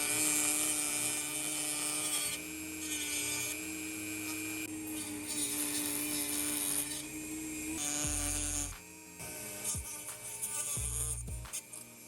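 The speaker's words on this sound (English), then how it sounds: "We need a special tool, a Dremel," A Dremel rotary tool whines at high speed while cutting a radiator duct piece for an E46 M3, a steady close buzz that dips and changes pitch under load, with brief pauses near the end.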